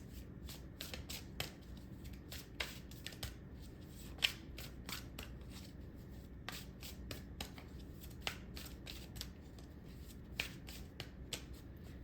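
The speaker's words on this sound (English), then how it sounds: "Let's do 3 more shuffles." Quiet, repeated crisp riffling and snapping of tarot cards being shuffled, in short irregular bursts over a soft background hum.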